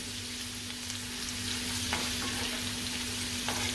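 Garlic and fresh kolim (tiny wet shrimp) sautéing in hot oil give a steady, close sizzle, with a few brief stirring scrapes and no voices.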